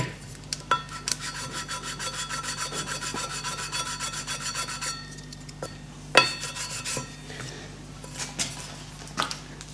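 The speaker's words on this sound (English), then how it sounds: "I'll try again with the sanding block and just see if that's made any difference" Sanding block rubbed back and forth over a metal surface during brush-plating finishing work, a steady rasping scrape with rhythmic strokes for several seconds, then a pause, a louder knock and a few shorter scrapes.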